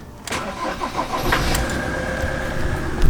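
An off-road vehicle's engine cranks briefly, catches and settles into a steady, close idle that carries through to the end.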